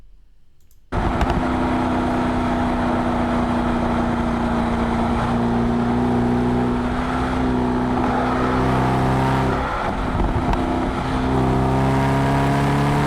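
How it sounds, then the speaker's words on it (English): A Mercedes-Benz SLS AMG's engine pulls hard under acceleration, a loud, close, steady drone with a rising tone that holds for several seconds after an abrupt start, with no voices. "this is a torquey engine"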